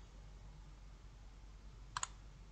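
A mouse button clicks twice in quick succession on a point-of-sale program's OK button, crisp and close, over a steady low hum.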